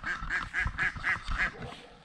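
Ducks quacking near a farm water trough, six rapid nasal quacks in a steady rhythm, close and fairly loud with no talk.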